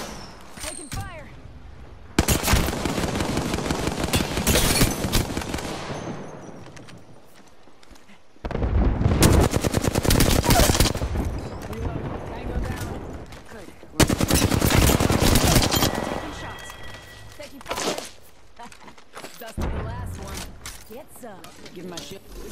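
Bursts of automatic gunfire from the video game Apex Legends come in three long, loud volleys separated by quieter gaps, with game voice lines heard among the shooting.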